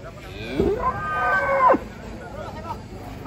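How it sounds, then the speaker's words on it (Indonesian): A single loud, drawn-out moo from a very large cow unloaded from a truck, close by, rising and then breaking off, with a low murmur of background noise around it. "jumbo lagi ini guys, sapi yang ketiga"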